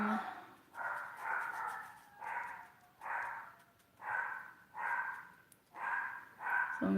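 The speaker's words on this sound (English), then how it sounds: "there goes my dog." A dog makes a series of rhythmic, muffled woofing or huffing sounds, about eight evenly spaced bursts close by, each rising and fading, with a quiet background between them.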